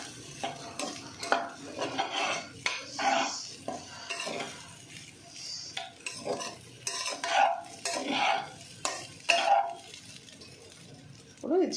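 A chicken fried rice mixture with vinegar is stirred in a pan, repeated scraping and clinking of a spoon against metal in irregular strokes over a soft sizzle, moderately close.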